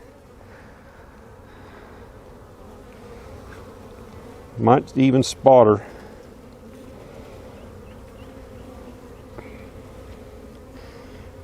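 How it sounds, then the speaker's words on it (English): Honey bees buzzing over an open brood box during a spring hive inspection, a steady low drone with a short burst of louder buzzing close by, and a person speaking briefly. "There's a lot of bees in this hive."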